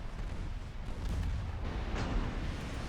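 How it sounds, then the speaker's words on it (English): Naval gunfire and torpedo impacts in a warship battle game: a continuous low, rumbling barrage of distant booms with a few sharper bursts rising out of the dense roar. "multiple torpedo hits on the main enemy ships that were charging in"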